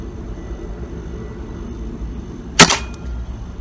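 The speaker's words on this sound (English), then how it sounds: "So those 2 short shots went low and high" A single sharp pellet gun shot cracks out once near the end of a steady background hum, fired through a chronograph, loud and close with a brief ringing tail.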